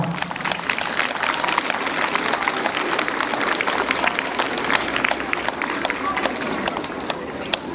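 Steady, dense applause from an audience at an end-of-year award ceremony as a winner is called up, continuous, loud and even throughout with no pauses.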